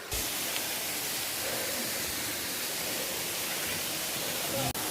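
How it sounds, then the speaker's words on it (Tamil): Mayilur waterfall near Tiruchirappalli in the Pachamalai hills pours with a dense, unbroken hiss of falling water that stays steady and fairly loud throughout, with a short knock near the end. "அதோ நம்ம அருவி பக்கத்தில் வந்துட்டோம்"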